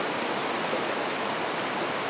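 Waterfall at Nakhon Nayok, Thailand, pouring in a constant dense rush of falling water, close and loud, with no voices.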